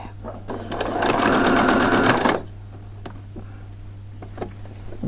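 A sewing machine runs a straight stitch around a chef's hat, one fast, continuous burst of rapid needle clatter lasting about two seconds, close and clear, then stopping with faint handling clicks afterward.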